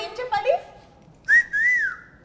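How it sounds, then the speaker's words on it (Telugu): A person whistles during a film-team interview game show, giving a few short chirps, then a louder, longer rising-and-falling whistle close by, with a brief low voice beforehand. "నువ్వు బజర్ కొట్టినట్లేదు నన్ను చూసి విజిల్ కొట్టి"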